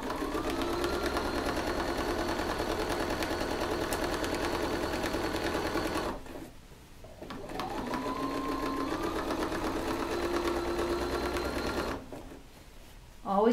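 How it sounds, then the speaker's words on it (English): A sewing machine stitches in the ditch through pinned quilt fabric, running in a fast, steady mechanical chatter that stops briefly twice before starting again, heard close up. "You never want to sew over these pins. That could be very bad for your machine."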